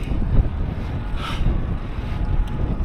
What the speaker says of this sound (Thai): สะพานแขวนมันให้ข้ามสะพานแขวน ลมแรงด้วย